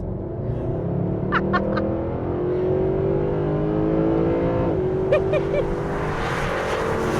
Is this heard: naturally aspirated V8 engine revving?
yes